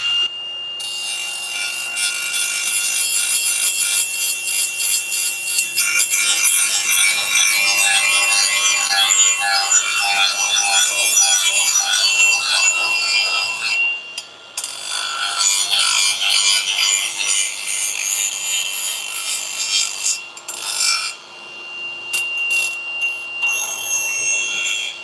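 An area is ground down while a Firman generator is fitted to an RV, a loud, continuous rasping grind that runs for most of the stretch with a couple of short pauses and no speech.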